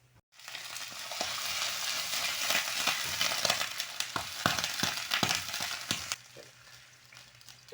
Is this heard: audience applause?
no